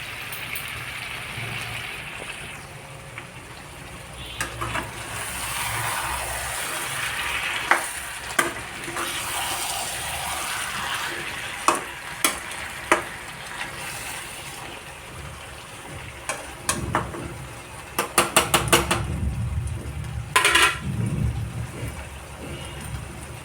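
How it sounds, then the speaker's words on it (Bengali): Fried potatoes are stirred into a chicken curry cooking in a pan. A constant frying sizzle fills the scene, with intermittent sharp spoon clacks against the pan and a burst of louder stirring near the end. "দিয়ে দিলাম বেজে রাখা আলুগুলো এবার ওগুলোকে ভালোভাবে নাড়াচাড়া করতে হবে"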